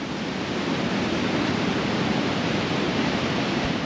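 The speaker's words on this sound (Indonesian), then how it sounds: "Ini suasana pantainya" Steady broadband roar of ocean surf washing onto the beach at Seminyak and Legian, Bali, constant and fairly loud with no talking.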